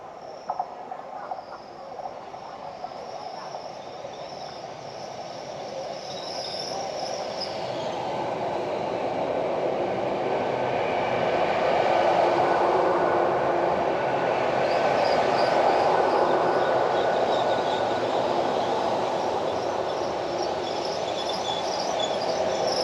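A GWR Class 802 train pulls into St. Austell station in Cornwall on the Penzance to London Paddington service. Its steady rumble builds over the clip with a faint high wheel whine, and no talking is heard.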